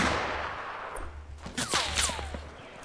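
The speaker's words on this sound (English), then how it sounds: "Keeps taking pop shots at me." Gunfire in Fortnite, a few sharp, separated shots cracking at moderate distance over a steady ambient rumble, with a short cluster of pops near the middle and trailing whizzing tones, no talking.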